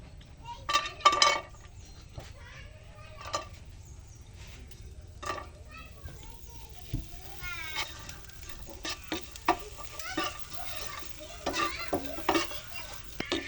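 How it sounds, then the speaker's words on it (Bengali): Cashews, almonds and raisins fry in a little ghee while being stirred, giving scattered scraping and clinking strokes of a spoon against the pan over a low, steady background. "সামান্য ঘি দিয়ে কাজু বাদাম, কাঠবাদাম ভেজে নিতে হবে এবং কিশমিশ।"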